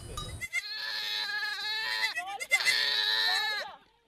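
A close goat in Turkana, Kenya, lets out long, wavering bleats, two drawn-out cries in quick succession after a brief rustle.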